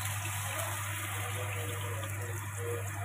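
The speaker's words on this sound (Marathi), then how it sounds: "आपण याच्यामध्ये थोडंसं आता 1 वाटी दूध टाकून घेऊया" One bowl of milk pours into a pan already holding ghee while making kalakand, a steady, continuous liquid gush close by that runs for the whole moment with no voices.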